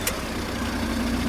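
A Ford Mondeo mk4 with 280,000 km on it idles with a steady, even engine hum under broadband noise, with no speech.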